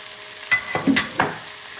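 Spinach and onion fry in a pan and are stirred, with three or four quick scraping strokes over a steady, close sizzle.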